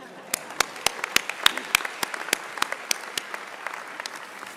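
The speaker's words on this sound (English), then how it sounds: "let's have a big round of applause to the end of tuition bills." Audience applause at a pharmacy school doctoral hooding commencement ceremony: scattered, sharp individual claps ring out over a steady wash of clapping, moderately close and unaccompanied by speech.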